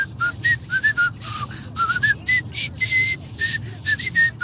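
A man whistles through his teeth, a run of short, bright, wavering notes in quick irregular bursts, close and clear over a low background hum.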